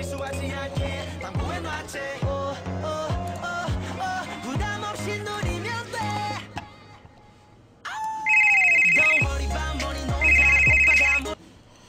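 A phone ringtone plays a bright, melodic run of notes for several seconds. After a short pause, a sharper electronic ring sounds in two repeated bursts.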